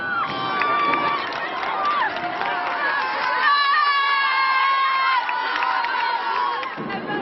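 A crowd cheers and shouts in a sustained, loud swell as apartment blocks are demolished, with whistles and overlapping voices, though distinct clapping is hard to pick out.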